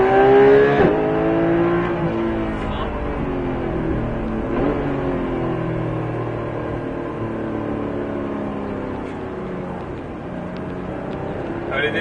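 Porsche 991 GT3 accelerating on the Circuit de Bresse race circuit: a loud, continuous engine note whose harmonics sweep upward through the gears, steady and close throughout, with an instructor's voice talking over it.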